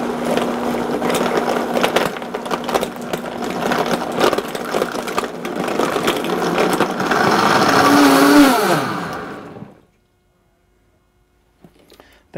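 A blender whirs steadily as it purées a green smoothie of banana, pear and kale, a loud continuous motor roar that rises in pitch near the end before cutting off, leaving near-silence with a few small clicks.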